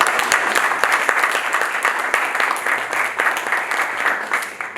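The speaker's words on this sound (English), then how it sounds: "let's give a big hand of applause to Madam Hawe and her local." An audience at a youth fellowship gathering in Yaoundé breaks into sustained applause, many hands clapping in a brisk, even wash with a few crisp individual claps near the front.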